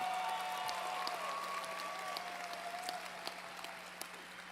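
An audience applauds at a Florida Poly commencement ceremony, a steady wash of clapping heard from some distance in a large hall, fading slightly toward the end.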